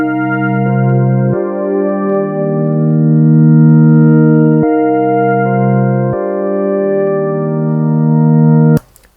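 Harmonic synth chords processed through a Soundtoys Microshift pitch-shift widening effect summed to mono, sustained tones changing every couple of seconds, loud and steady, cutting off abruptly near the end.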